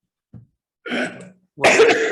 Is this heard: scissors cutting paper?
no